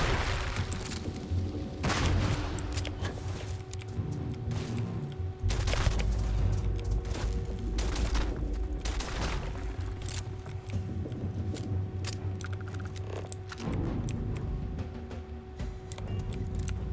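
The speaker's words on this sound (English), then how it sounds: "Shotgun pistol." Shotgun and pistol fire in Starfield crack out in irregular bursts during a combat encounter, sharp repeated reports layered over a steady electronic hum and busy game effects, with no talking.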